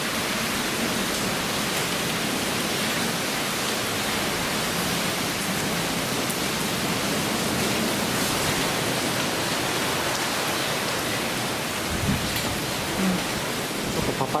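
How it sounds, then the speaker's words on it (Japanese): Heavy rain pours steadily in Okinawa as a typhoon passes, a dense, continuous roar of rainfall that stays loud and unbroken throughout, with a brief thump near the end. "すごい雨になっちゃいました"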